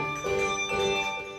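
A handbell choir plays a tune, with sustained ringing bell tones overlapping in a steady, moderately loud wash of chimes.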